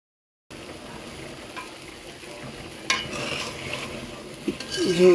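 Spiced gravy for a rui fish bhuna fries and is stirred in a pan, a steady low sizzle running throughout, with a spoon scraping and clinking against the metal in bursts toward the end, close up and with no talking.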